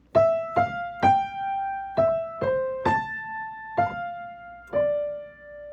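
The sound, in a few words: piano right-hand melody of a piece, new part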